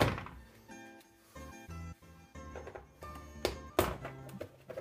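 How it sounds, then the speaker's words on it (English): Pin being pushed back into an APS UAR airsoft gun: a series of dull plastic thunks and taps at close range, irregular, with a few sharper knocks near the end. "Just put the pin back in"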